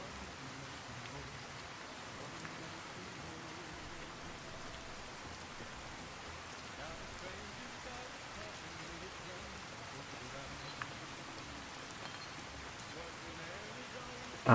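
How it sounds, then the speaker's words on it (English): Steady rain from a weather mod in the video game Fallout New Vegas, a soft, continuous patter of drops hissing evenly at a low level with no break. "Ah, the rain mod is comfy"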